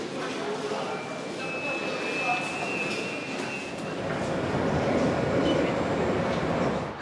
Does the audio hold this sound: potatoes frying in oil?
no